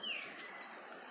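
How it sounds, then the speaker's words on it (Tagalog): A bird gives a brief, faint chirp outdoors at the very start, then only soft, quiet outdoor ambience remains. "Naririnig nyo ba yung mga huni ng ibon?"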